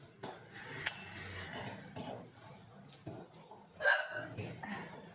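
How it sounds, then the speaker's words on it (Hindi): A woman's real, long-lasting hiccups, several abrupt hiccups spread across a few seconds, the loudest near the end, amid quiet breathing and brief speech sounds close to the microphone. "मेरी जो हिचकी है वो बहुत देर तक चलती है"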